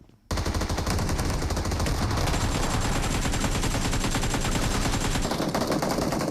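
Sustained rapid automatic gunfire in PUBG Mobile pours out loud and close after a brief quiet start, rattling almost without pause for several seconds.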